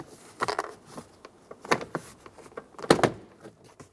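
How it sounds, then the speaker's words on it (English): Plastic trim clips popping loose as a door panel is pulled off a 2014-2019 Toyota Highlander driver door, three sharp snapping cracks spaced across a few seconds, close and fairly loud with small rattles between. "pull straight out in one swift motion so that all of the bottom clips will pop, and pop the rest of the clips out of the door"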